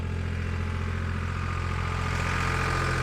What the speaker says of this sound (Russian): трактор убирает снег